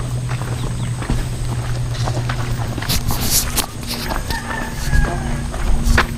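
Chickens cluck and call in the background of an outdoor scene, with a low engine-like drone and scattered clatter throughout.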